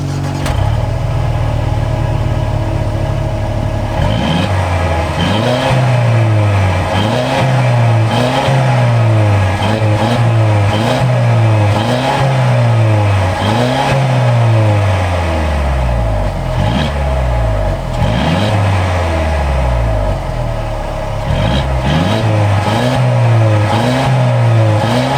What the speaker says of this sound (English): let's take this bad boy out and see how this thing drives